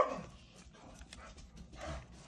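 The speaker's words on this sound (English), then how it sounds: "That's my dog." Faint dog sounds, a few soft yips or whimpers rather than clear barks, come from somewhere off in a quiet room with light rustling.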